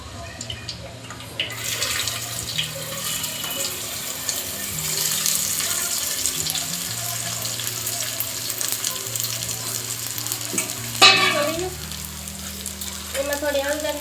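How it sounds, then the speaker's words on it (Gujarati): Chopped okra hitting a hot pan with garlic and tomato, sizzling and frying steadily throughout, with some stirring and a brief louder clatter near the end. "હવે આપણે ભીંડો નાખી દઈએ."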